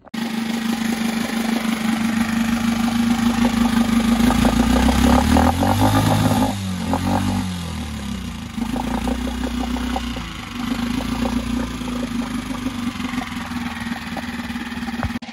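A Mercury 3.5hp outboard motor with an upgraded carburetor runs in a water tank, a loud, steady mid-pitched clattering idle that surges and dips in revs around the middle, then settles back to a continuous drone with no talking.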